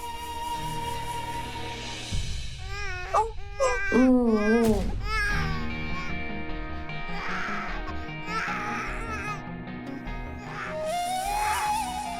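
An infant cries loudly and continuously in wavering, high wails over a steady musical score in a dramatic TV serial scene, with no talking.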